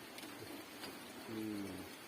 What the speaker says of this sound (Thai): ฝนก็ตกทั้งตกมาตั้งแต่ บ่ายสองโมงยังยังไม่หยุดเลยครับ